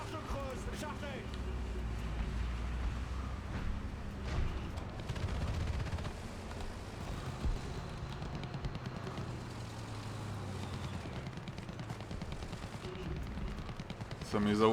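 Booming tank cannon fire and rumbling engine noise from a tank video game featuring a French M46 and a Maus, with a voice talking over the battle.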